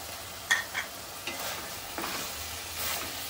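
Brinjal cooked with dried shrimp and coriander being stirred in a pan, giving several separate scraping strokes over a quiet, continuous sizzle at close range with no talk.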